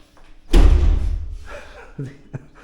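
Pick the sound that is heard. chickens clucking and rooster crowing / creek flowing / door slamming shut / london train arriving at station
door slamming shut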